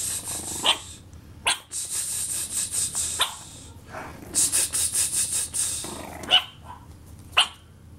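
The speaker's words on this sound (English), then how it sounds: "Who's barking? Who's barking?" A dog barks in short, sharp bursts, some of them loud and close, with growly rubbing and scuffling noises between the barks and several quiet gaps.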